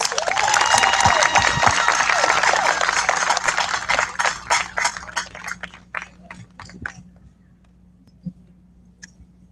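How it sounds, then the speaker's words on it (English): A crowd at a Relay for Life opening ceremony in Niceville-Valparaiso, Florida, applauds its sponsors with dense, loud clapping that thins over several seconds into scattered individual claps before fading out. "Please, a round of applause for our sponsors."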